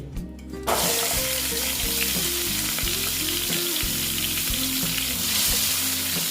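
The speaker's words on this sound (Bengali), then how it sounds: "দিয়ে আমি এগুলোকে ভেজে নেব একটু আস্তে আস্তে করে এগুলোকে ভাজবো" Salt-rubbed pointed gourd (potol) drops into hot oil for doi potol, bursting into a loud, continuous sizzle after a brief quiet start and crackling steadily throughout, close by and with no voices.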